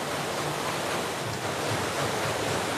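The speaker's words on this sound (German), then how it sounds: "Dann zeigt Lothar Schmidt auch das imposante Wasserrad in der Herrenmühle." The large water wheel of the Herrenmühle mill, now used to generate electricity, turning in its stream, heard as a steady rushing wash of water that fills the whole short stretch with no voices.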